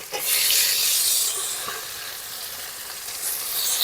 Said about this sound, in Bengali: পেঁয়াজ কুচি টমেটো কুচি একসঙ্গে দিয়ে দেবো।